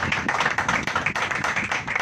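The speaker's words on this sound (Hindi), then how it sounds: "ताली बजाते रहिए।" A congregation claps along in steady rhythm during a Hindi-language church sermon by a reverend, with quick, even claps repeating several times a second in a continuous crowd pulse.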